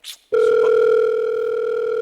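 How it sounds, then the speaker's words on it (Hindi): A telephone sounding a steady, loud electronic tone after a brief moment of noise, holding one continuous pitch with bright overtones and no break. "सर आपका फोन आ रहा है"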